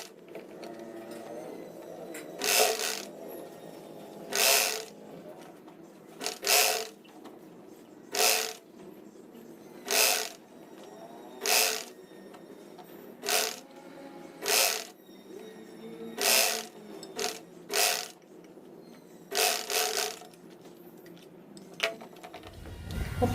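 A sewing machine stitches a shirt seam in short, evenly spaced bursts of rapid mechanical whirring, about a dozen runs with brief pauses between, close and fairly quiet with no talking.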